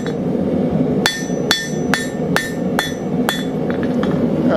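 A blacksmith's hammer rings on iron six times at an even pace while flathead screwdriver-shaped points are forged onto a portable campfire grill. The metallic strikes are bright and close over a steady background hum.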